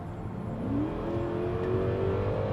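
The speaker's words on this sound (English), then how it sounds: "sure, you can hear the engine" A 2020 Genesis G90 accelerates, its engine note rising in a smooth, steady whine above a low road rumble, fairly quiet and distant inside the cabin, with no talking.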